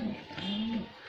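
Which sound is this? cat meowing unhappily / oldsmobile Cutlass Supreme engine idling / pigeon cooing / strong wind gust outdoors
pigeon cooing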